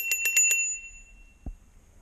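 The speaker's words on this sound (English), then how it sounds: "a bell." Four quick, bright rings from the bell on an Apollo Ghost electric scooter, close and crisp, leaving a ringing tail, then a single soft knock.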